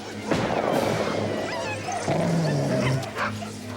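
The wolf-dog White Fang gives sharp barks followed by drawn-out whimpers, loud and close, with a crash-like thump partway through.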